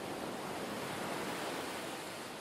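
Steady ocean surf washing in continuously, a broad soft rushing roar with no other sounds.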